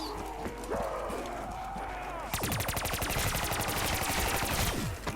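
Rapid automatic gunfire in Call of Duty Black Ops 3 Zombies on The Giant map, a Pack-a-Punched wall weapon scoring headshots, loud dense bursts over game music and noise.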